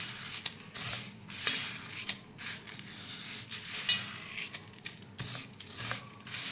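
A spoon stirs and mixes date-palm jaggery in a pot, with soft scraping and intermittent light clinks and taps repeating unevenly at close range.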